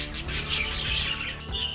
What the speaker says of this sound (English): how good and therapeutic would it be to watch birds chirping, bathing, and having a party in your house?